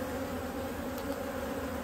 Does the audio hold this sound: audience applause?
no